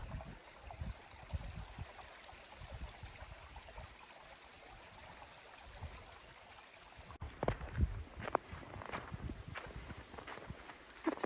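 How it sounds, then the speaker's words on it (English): A snow-covered creek runs with a small waterfall behind it, giving a steady rushing wash of water that grows rougher and closer partway through, with no talk. "You can see the creek's running nicely. A little waterfall in the back."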